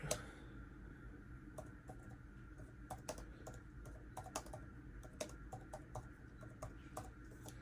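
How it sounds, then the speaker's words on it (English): Rapid clicking of keys on a computer keyboard, quick irregular taps close up against a quiet background hum. "I'm typing really quick."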